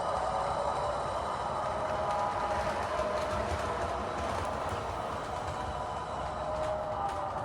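Steady model train running sounds from a DCC sound decoder in a boxcar, with a continuous rumble and faint rhythmic clicking, carrying on evenly throughout at moderate volume with no talking.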